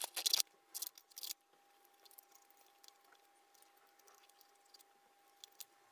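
Scissors cut out paper witch pictures for vintage Halloween decor, with a few quick, crisp snips at the start, then quiet, faint rustling and handling in a still room.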